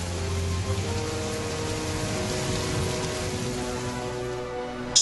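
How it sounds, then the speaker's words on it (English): A storm rain effect gives a steady, soft hiss of falling rain with some low tonal hum underneath, fairly quiet and unbroken, ending in a brief sharp knock. "fighting their way back through the wind and rain"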